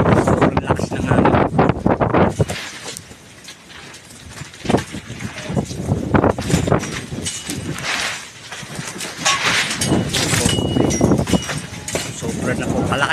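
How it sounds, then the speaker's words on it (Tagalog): Very strong typhoon wind during landfall, loud blustery roaring and buffeting on the microphone in surging gusts, with someone talking over it throughout. "sobrang lakas ng hangin."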